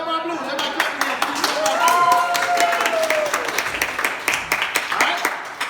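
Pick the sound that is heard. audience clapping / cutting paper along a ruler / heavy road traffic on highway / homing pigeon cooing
audience clapping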